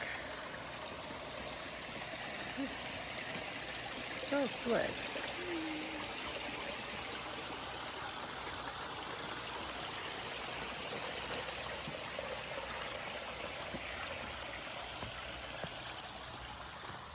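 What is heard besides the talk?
Stony Brook stream flowing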